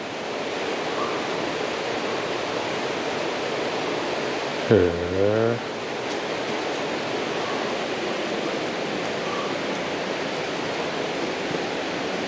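Steady broadband roar of a waterfall at Akame 48 Waterfalls, constant and fairly close, with a short voice exclamation over it midway.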